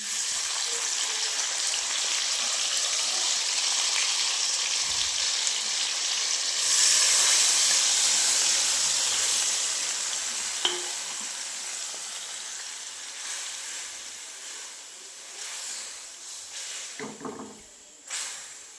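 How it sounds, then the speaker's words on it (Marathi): Leafy greens (safflower leaves) dropped into hot oil tempered with garlic and chilli powder give a loud, broad sizzle. It swells around the middle, then fades into steady steaming hiss with a few faint clinks and no talking. "आता भाजी टाकते"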